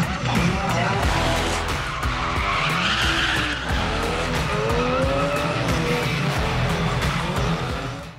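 A car skids hard during a stunt-driving display at an auto fest in Karachi, with loud, sustained tire squeal and revving engine over a steady roar of background noise, and voices faintly underneath.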